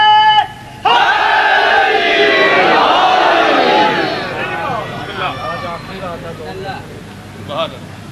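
A religious gathering's crowd chanting a slogan in unison, a loud massed roar of voices that swells, then breaks into scattered shouts and fading calls.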